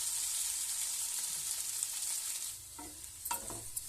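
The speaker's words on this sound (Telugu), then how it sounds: "ఆలుగడ్డ ఫ్రైని మధ్య మధ్యలో కలుపుతూ లో ఫ్లేమ్లో కుక్ చేసుకోవాలి" Potato fry stirred in a pan over a low flame, a soft steady sizzle with a few scraping stirs near the end, close and fairly quiet.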